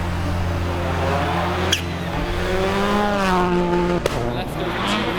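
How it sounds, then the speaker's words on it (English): Rally car at speed on a snow rally stage, its engine droning loud and steady with rising and falling pitch as it revs between gears, a couple of sharp knocks, with a co-driver's voice calling notes over it. "They push their car to its limit"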